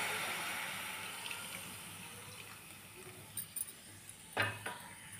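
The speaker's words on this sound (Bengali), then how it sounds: "তারপর একটু জল ঢেলে দিচ্ছি।" Water poured into a cooking pot of vegetarian curry with pumpkin dumplings, a soft steady pour fading into the background, followed by a few light metallic clinks from the pot and utensils near the end.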